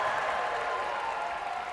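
Crowd at a high school boys' basketball game cheering and applauding after a play, a dense, steady roar of noise filling the gym.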